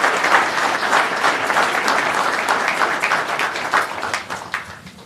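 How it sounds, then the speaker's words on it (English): Audience at a Modesto city council meeting applauds the family members of public servants, a steady, fairly loud round of clapping that holds for the whole stretch and tapers slightly near the end. "So I'd like to have a nice big round of applause for the family members of these public servants."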